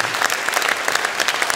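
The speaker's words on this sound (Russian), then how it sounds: "Ковальчикова ваши аплодисменты" Warm audience applause at a talent showcase concert, a dense, loud patter of many hands clapping continuously for the performer.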